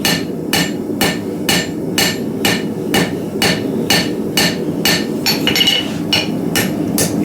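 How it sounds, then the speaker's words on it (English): A hammer forges a frontier knife blade on an anvil, with about a dozen sharp, loud metallic strikes at a steady, even rhythm, close up and with no talking. "I'm indexing with my left hand, hitting the same spot on the anvil."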